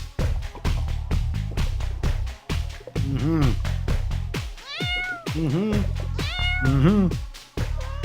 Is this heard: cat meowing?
yes